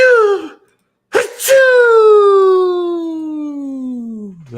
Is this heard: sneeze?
yes